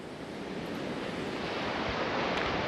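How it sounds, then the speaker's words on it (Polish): Strong wind and ocean surf on the rocky coast near the Cape of Good Hope, a continuous broadband roar of waves with wind buffeting the microphone, steady and fairly close with no voices. "wiatr mocno wieje, ładne fale."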